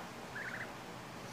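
A goose lets out one brief honking call, a short clear burst over quiet outdoor background noise.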